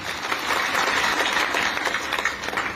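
Audience applause at an outdoor community rally in Madhepura, a dense, steady crackle of many hands clapping at even loudness for the whole stretch, with no voices standing out.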